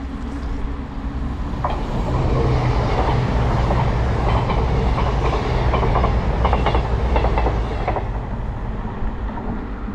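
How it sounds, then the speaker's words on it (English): A passing train rumbles steadily nearby, its wheels clacking and squealing faintly on the rails as the loud roar swells and holds for several seconds before easing off, with no talking. "That's more than likely the Manchester Painting train."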